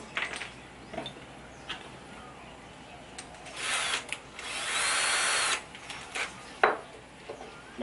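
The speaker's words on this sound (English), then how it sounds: "So what I'll do now is I'll drill a hole in the end." A power drill whirs in several short bursts, then one longer steady run, biting into wood up close with brief pauses between.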